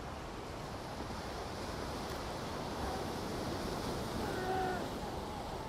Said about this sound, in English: So let's wait for another set to come in. Okay, here's one now.